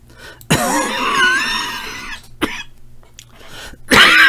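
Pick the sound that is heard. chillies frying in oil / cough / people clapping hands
cough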